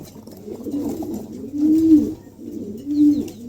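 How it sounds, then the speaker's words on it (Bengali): A pair of female pigeons offered for sale coo in soft, low, rolling calls that swell twice, close by and clear, with no one speaking. "এখানে একজোড়া কবুতর আছে দেখেন চমৎকার একজোড়া কবুতর আছে"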